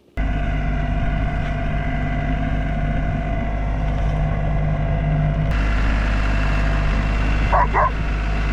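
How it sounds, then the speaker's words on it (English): A tractor engine runs at a steady idle-like drone with a low, continuous hum, loud and close, with a brief higher sound near the end. "time to hop on the tractor and we're going to get this done."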